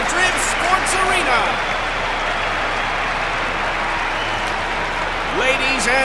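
Crowd applause at a Madrid arena in the Top Spin 4 tennis video game, a steady wash of clapping throughout. A voice talks over it at the start and the end.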